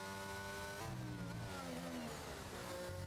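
McLaren race car engines at Silverstone in a racing video game, a steady revving drone with pitch sweeping down and up through gear changes, heard close and continuous.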